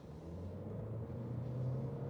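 A 2020 Nissan Sentra SR in sport mode gives a steady low engine rumble and road hum from inside the cabin, with no voices.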